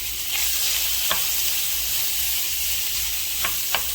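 Bacon sizzles and fries steadily in a pan, a dense hiss with a few soft wooden-spoon scrapes and taps as it is stirred, close and alone.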